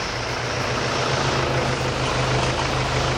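A diesel car engine runs steadily at idle during a detox fuel-system cleaning, giving a continuous low hum with broad noise on top, close and unbroken throughout with no voices.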